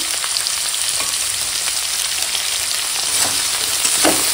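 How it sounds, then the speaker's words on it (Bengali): Vegetables sauté in a hot pan with salt, chili powder and turmeric, a loud, dense, unbroken sizzle with faint stirring scrapes and a few soft knocks near the end. "দিয়ে মশলার সঙ্গে সবজিটা কষিয়ে নেবো"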